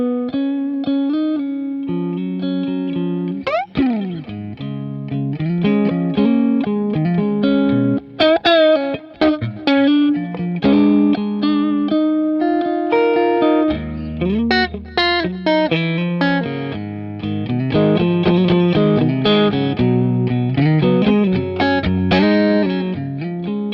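Electric guitar played through a MESA/Boogie Mark IIC+ tube amp in Class A mode, warm and slightly driven, with chords and single-note melodic phrases ringing out alone, no talking.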